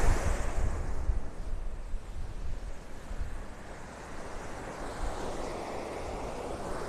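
Ocean waves wash onto a beach in North Naples, Florida, a broad continuous roar of surf mixed with wind buffeting the microphone, louder at first and then settling into a steady rush with no talking.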